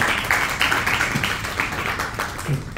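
An audience at a roundtable panel discussion applauds, a moderate, even patter of many hands clapping for a few seconds.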